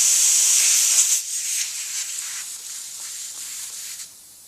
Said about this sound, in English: since you do not have a valve core in place, the tire will want to leak